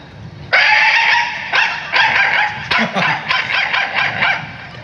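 A man imitates a dog barking on stage: a long drawn-out howl-like bark, then a run of rapid yapping barks and yips, loud and close, with no other talk.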